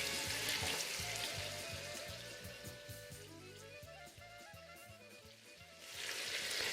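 Fresh onion for lamb with rice frying in a pan on a stovetop burner at three-quarter power, a soft, steady sizzle beneath background music.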